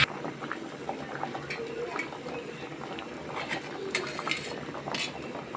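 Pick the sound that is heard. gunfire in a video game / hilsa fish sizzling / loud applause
hilsa fish sizzling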